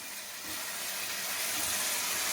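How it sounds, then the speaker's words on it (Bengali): A quiet, steady hiss and soft bubbling from a pot of boiling rice, brief and unbroken. "এখানে ভাত ফুটছে"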